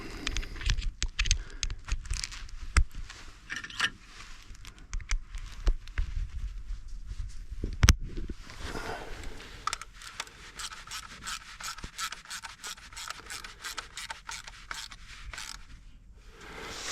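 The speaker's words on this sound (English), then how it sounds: "And we'll finish them off with a ratchet." A ratchet tightens spark plugs on an older van, ticking in a quiet, rapid clicking rhythm close by that grows denser toward the end, with no talking.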